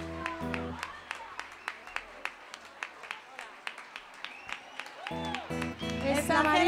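A concert audience at Sala Bikini claps steadily in rhythm for a singer, the even beats running between bursts of live music at the start and end.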